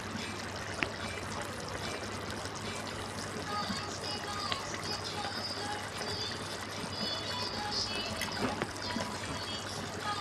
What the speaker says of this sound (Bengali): এবার আমি উপর থেকে নামাবার আগে কাঁচা সর্ষের তেল দিয়ে দেব